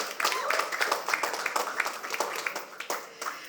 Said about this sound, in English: Ladies and gentlemen, a big round of applause for our esteemed partners and representatives of Filmfare.